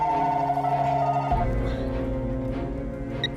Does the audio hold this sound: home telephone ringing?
yes